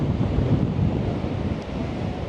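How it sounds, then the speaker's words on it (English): Rough sea surf crashes steadily along the Blackpool promenade, battered by strong gusting wind that roars across the microphone throughout. "Look at these waves."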